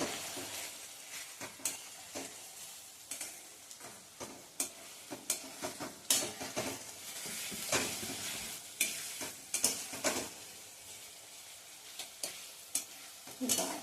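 Onion and green chilli thecha sautéing in oil in a pan, with a steady sizzle broken by frequent scraping stir strokes in an irregular rhythm, close by and without talk.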